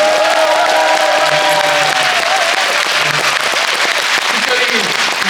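Theatre audience applauding at a stage greeting after a performance of the Korean musical Seopyeonje, sustained steady clapping from a large crowd with a voice talking faintly beneath it.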